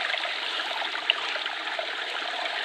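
A steady, hissing rush of water spraying from a small micro hydro nozzle jet, constant and close, with no voices.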